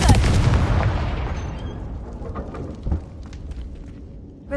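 A Confringo blasting curse explodes in a Harry Potter video game, a loud booming blast at the start that rolls off into a long decaying rumble, with a couple of smaller pops and crackles afterward.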